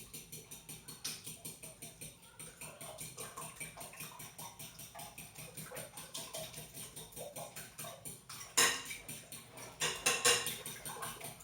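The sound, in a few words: mixing quiche filling with a utensil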